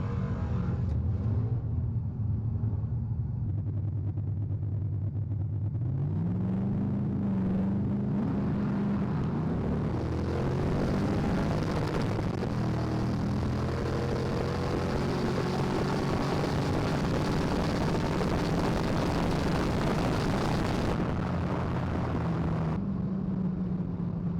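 A drag race car launches off the line at a test-and-tune session, its engine roaring up in pitch through the run, then fading and cutting off abruptly near the end.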